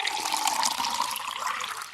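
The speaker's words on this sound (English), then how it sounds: "she put some warm, soapy water into a large wooden basin" Warm soapy water pours steadily into a large wooden basin, a continuous splashing gush that stays even and close for the whole stretch with no voices.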